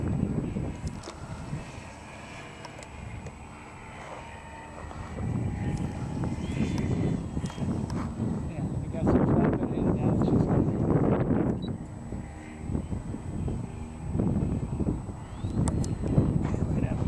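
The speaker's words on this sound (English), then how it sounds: "It's really windy. Died down a little bit." Strong gusty wind blows outdoors at a model airplane flying field, roaring and buffeting against the microphone in surges that swell louder midway. A person talks intermittently over it.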